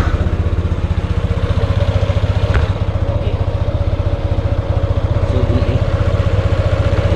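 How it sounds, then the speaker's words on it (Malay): Yamaha Nmax scooter engine idling close by with a steady, rapid pulsing throb and a slightly rough, uneven clatter, continuous throughout and without speech. "Sebab sekarang pun memang enjin dah bunyi, dia tak sedap."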